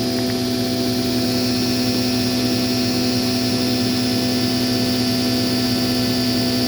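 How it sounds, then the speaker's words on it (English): A 15 kW DC generator driven by an electric motor at about 940 RPM gives a steady, loud, even mechanical hum with a constant whine. It runs continuously, with no voices. "It's being driven by that motor, and it's spinning at"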